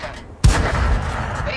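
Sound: shell ricochet off tank armor in tank video game

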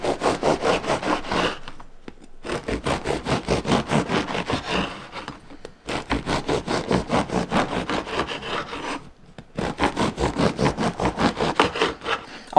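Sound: bread knife slicing rye bread

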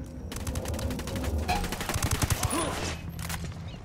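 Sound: gunfire in Ghost Recon Wildlands video game

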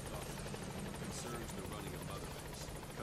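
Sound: helicopter in video game Metal Gear Solid V

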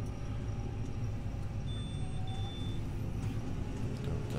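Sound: Fendt 724 tractor driving in a field

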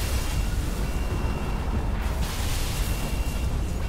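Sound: explosions in video game Halo 3

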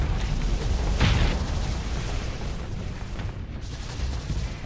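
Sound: missile explosions in video game Starsector

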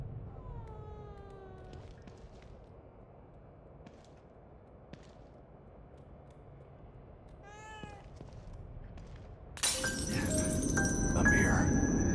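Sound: cat meowing in video game The Evil Within 2

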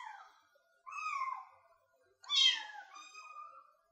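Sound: kittens meowing

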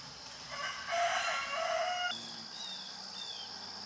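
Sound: chickens clucking and rooster crowing in garden

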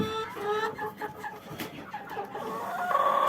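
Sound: hens clucking

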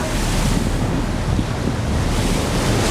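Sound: Atlantic Ocean waves off the North Carolina coast

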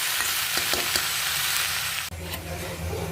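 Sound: spinach frying and being stirred in a pan

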